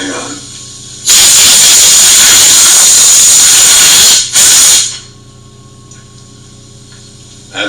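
Compressed air blasting metal chips off a workpiece drilled with an annular cutter, a loud close hissing burst lasting about three seconds, a short break, then a second shorter blast, with quiet shop noise around it.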